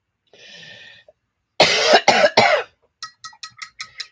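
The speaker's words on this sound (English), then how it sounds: "if you don't like to hear me coughing" Several harsh, close coughs come in a quick burst of three, followed by a run of shorter, lighter hacking coughs, with a faint breathy throat sound at the start.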